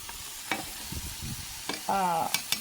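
Fresh garlic sizzles in a pan with a soft, steady hiss. Stirring scrapes and clicks sound through it, and a brief squeaky tone rises near the end.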